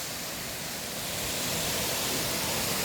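Salimuno Falls waterfall rushing in a steady, loud, broadband roar that swells slightly over the few seconds, with no voices over it.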